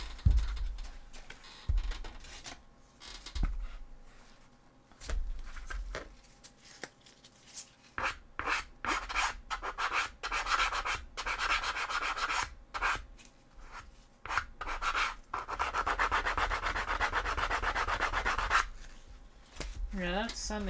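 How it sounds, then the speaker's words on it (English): A cosplay bolt pistol prop is sanded by hand in short, irregular scratchy strokes, bursts of gritty rubbing broken by pauses, closer and denser toward the end. "this needs a little bit of sanding still"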